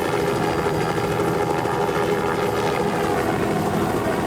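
A helicopter flies low over wild terrain in pursuit of a large predator, its rotor thudding and engine droning loud and steady throughout with no voices.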